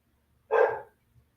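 A single dog bark sounds once from somewhere nearby in a home, short and moderately loud, followed by quiet.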